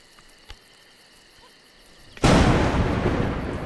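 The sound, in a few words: thunder and lightning in the video game A Juggler's Tale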